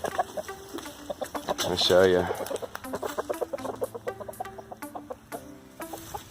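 Chickens on a farm cluck in quick, repeated bursts close by, with a louder squawk near the start, while a person speaks over them.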